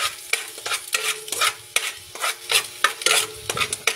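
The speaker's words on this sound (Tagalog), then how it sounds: "nailagay na natin yung butter, tsaka yung garlic" Butter and garlic sauté in a pan for a toguetti-style dish, a steady close sizzle broken by repeated bursts of scraping and stirring against the metal, with no talk.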